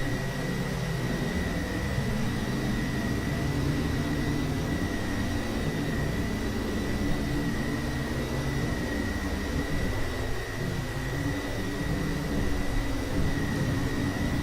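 Steady broadband roar of jet airliner engines in cruise in the FSX flight simulator, a 727 or 707, continuous and unchanging with a faint high whine, no talking.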